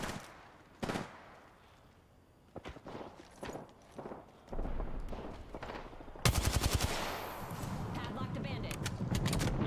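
Gunfire in Apex Legends, sharp bursts and single shots scattered among footsteps and scuffles, building to heavier rapid fire near the end, with a voice talking between shots.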